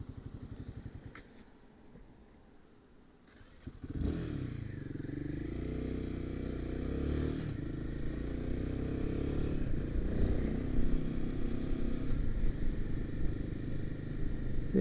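After a few quiet seconds a Royal Enfield Himalayan 452 motorcycle's exhaust note kicks in loud and close, droning steadily while riding with small rises and dips in revs.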